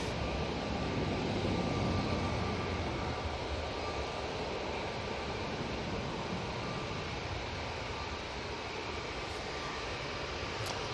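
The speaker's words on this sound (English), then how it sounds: "Next on, got a Ryanair 737-800" A Ryanair Boeing 737-800 jet airliner with split scimitar winglets at Manchester Airport gives a sustained broadband jet roar, moderately loud and steady, tapering slightly near the end, with no talk.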